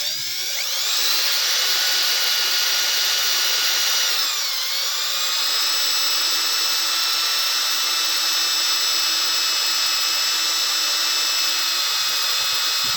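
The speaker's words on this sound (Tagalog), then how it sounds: "At ito ay babarinahin na natin." Power drill boring out a rounded-off bolt in a motorcycle engine sprocket, a loud steady high whine that runs continuously, dipping briefly in pitch as the bit bites, then carrying on alone without talk.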